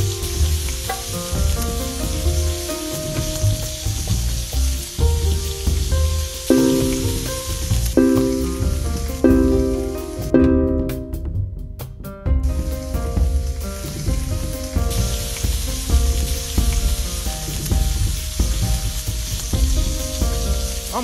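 Steady frying sizzle of chicken in a pan in a cooking video game, continuous and fairly loud, mixed with bright tonal game music throughout with a brief dropout midway.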